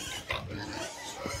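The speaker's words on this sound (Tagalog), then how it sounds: "ang ingay ng mga baboy" Low grunting oinks from pigs close by, repeated in short bursts over a steady noisy background.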